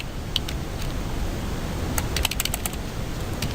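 Code typed on a computer keyboard, quick irregular key clicks in small clusters, near and fairly crisp over a steady low background hum, with no talking.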